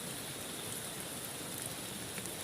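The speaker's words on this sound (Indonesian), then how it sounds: "Memang hujannya belum bereda" Steady rain falls at a riverside campsite, a dense, even hiss of drops on surfaces with no pauses, fairly close and moderately loud throughout, no voices.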